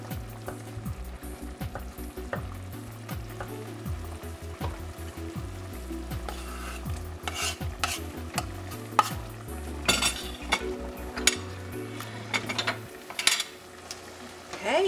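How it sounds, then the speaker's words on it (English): Curry chicken simmers in sauce in a pan, giving a steady bubbling sizzle with frequent scrapes and clinks of a utensil stirring, close and continuous under a low background hum. "we're going to just simmer that down in that sauce and have it soaked all in"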